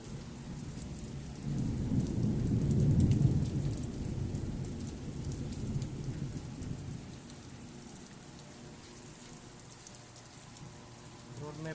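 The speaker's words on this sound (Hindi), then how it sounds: "बिजली कड़क रहा है, बिजली चमका रहा है।" Heavy rain pours steadily during a Chennai thunderstorm, with a low rumble of thunder building early, then fading into a constant hiss of rain on surfaces.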